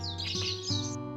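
Bright, high bird chirps and tweets warble above a steady low hum, several calls overlapping throughout the short moment.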